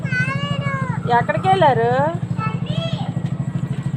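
A motorbike engine putters with a steady, regular low beat throughout, running close by beneath a child's chattering, high-pitched voice.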